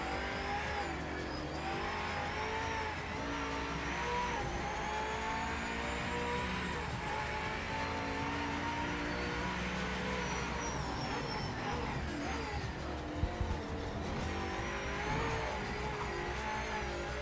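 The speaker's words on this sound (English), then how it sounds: "but a lot of the GT cars sound well good" GT race car engines rev steadily and climb through the gears in Project Motor Racing, giving a continuous harmonic drone with rising and falling pitch and a brief tire squeal near the end, heard alone without talk.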